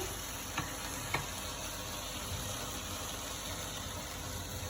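Bombil fish fries crisp in a hot pan, giving a steady, even sizzle that runs unbroken, with a couple of faint clicks near the start and no voices.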